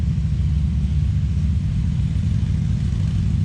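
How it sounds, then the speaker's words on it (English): Several motorcycles ride past on a road outdoors, a steady loud low engine rumble that holds throughout without a clear pass-by peak. "I thought there was a bike coming up the road there."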